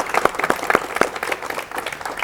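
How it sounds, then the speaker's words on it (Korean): Studio audience applause on a 1985 Korean television talk show, welcoming a Harvard Korean studies professor as he comes on; a brief burst of dense clapping with a few louder individual claps, with no talking. "박수로 맞이해 주십시오"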